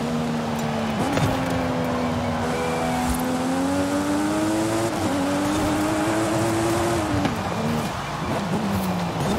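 A car drifting in the open-world racing game Forza Horizon 5, its engine holding a sustained sliding drone that rises and falls with throttle shifts, loud and continuous with no talk over it.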